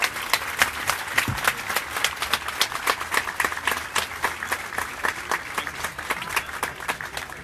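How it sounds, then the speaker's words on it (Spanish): A crowd at a baseball event claps in a steady, rhythmic unison beat, with distinct regular claps repeating throughout and light background crowd noise. "Que se escuche fuerte el aplauso para Memo Alvarado"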